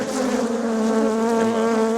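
Honeybees swarm close around an opened beehive, a dense, continuous buzz at steady loudness with no voices.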